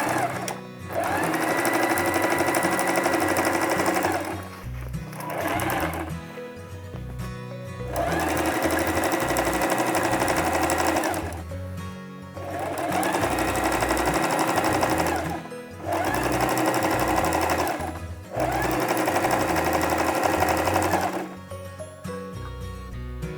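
A sewing machine runs a straight stitch in long, steady, loud bursts separated by short pauses, with no talking over the motor.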